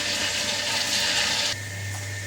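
Water is poured into a wet grinder of soaked urad dal as a close, steady rushing splash, which stops abruptly partway through and leaves a low motor hum.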